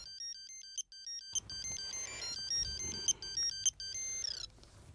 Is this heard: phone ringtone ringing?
yes